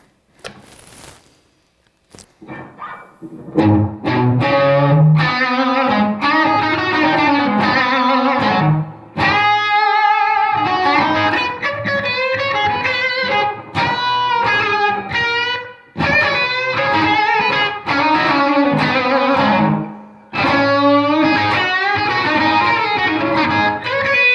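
An electric guitar plays short phrases through an analog delay pedal with a driven, slightly gritty tone, each note trailing into repeating delayed echoes that blur toward a reverb-like wash.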